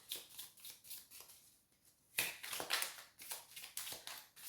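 Someone cuts a deck of tarot cards by hand: soft, close, papery riffles and taps in quick irregular flurries, with a sharper snap of card edges partway through.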